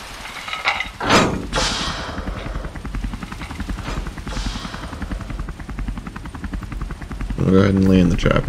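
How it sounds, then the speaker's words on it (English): A rescue helicopter in the video game Emergency 4 produces a continuous rhythmic rotor chop that runs throughout, with mechanical clatter and someone talking over it. "I'm gonna have to land a chopper."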